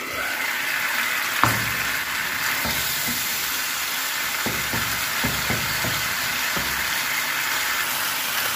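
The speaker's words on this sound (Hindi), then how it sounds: "इसको कवर करके 5 मिनट के लिए पकाएंगे" Maggi noodles with chicken cooking under a lid in a pan, giving a steady, close sizzle with occasional soft pops and knocks and no voices.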